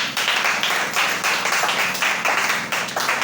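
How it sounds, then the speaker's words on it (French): Steady loud applause from a church gathering, many hands clapping in a continuous textured wash that swells and dips slightly. "Acclamez très fort."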